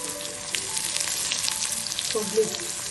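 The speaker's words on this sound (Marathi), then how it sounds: "कांदा आणि बटाटा आता त्याच्यावरती भाजून घ्यायचा" Onion and potato frying in a pan for Maharashtrian Ravan bhaat, a steady close sizzle throughout with a faint clink of a utensil near the end.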